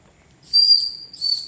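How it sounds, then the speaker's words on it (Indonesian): Two shrill toy whistle toots, the first longer and the second shorter, loud and close against a quiet background. "Oh, dapat peluit."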